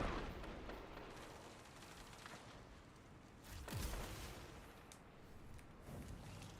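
A bouncy grenade explodes in a video game as a low burst rising out of steady background rumble, heard at moderate loudness among other distant game blasts.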